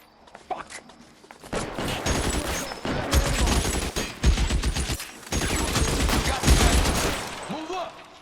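Heavy gunfire in the L.A. Noire game: rapid volleys of shots come in several dense bursts separated by short pauses, loud and close, with brief shouting voices between them.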